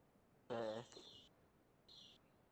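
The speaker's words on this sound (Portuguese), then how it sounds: "E tu tá criando passarinho aí no teu apartamento" Pet birds kept in an apartment give two short chirping calls, faint and somewhat distant, separated by a brief pause over quiet room background.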